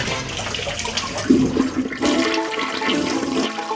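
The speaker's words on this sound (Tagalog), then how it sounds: "iniipon niya para ipam-flush sa kanilang inodoro" A toilet flushes in a home bathroom, a loud rushing gush of water that swells midway and keeps draining steadily to the end, with no talking over it.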